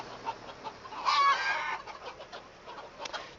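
Farmyard chickens at feeding time let out a short burst of clucking midway through, moderately close but soft, over quiet outdoor background with no talking.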